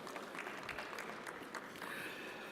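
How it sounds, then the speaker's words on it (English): A conference audience at a plastic recycling panel applauds, a steady wash of clapping that continues throughout the clip. "A round of applause for Mr. Prashant, please."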